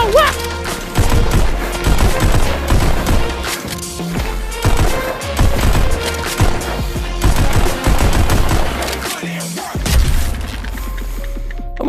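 Rapid bursts of virtual pistol gunfire in the VR shooter Pistol Whip, loud and nearly continuous with thumping music and impacts, broken by a brief lull near the end.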